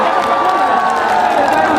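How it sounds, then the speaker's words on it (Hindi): A large crowd at a Bhojpuri stage show in Rajauli, Nawada claps and cheers in a loud, continuous, dense roar of applause heard close, with a voice speaking over it. "मंच पे जितने भी मेरे गार्जियन स्वरूप लोग हैं एक बार आशीर्वाद दे दीजिए ताली बजा के।"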